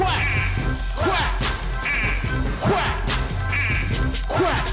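People imitate a duck with loud, repeated nasal quacks in a regular rhythm, nearly buried under constant heavy music.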